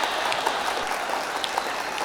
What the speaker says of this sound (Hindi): दोनों हाथों को मिला के तालियां एक साथ